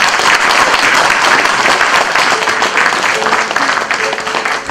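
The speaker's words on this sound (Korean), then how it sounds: "뜨거운 격려 박수 부탁드립니다" Loud, dense applause from a crowd fills a graduation ceremony hall at a Korean preaching school, a steady roar of many hands clapping throughout, with no break or letup.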